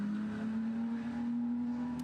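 A Ferrari Challenge race car drives off toward the scrutineering garage at the Nürburgring, its engine a steady, fairly quiet droning hum with a constant pitched tone and no passing surge.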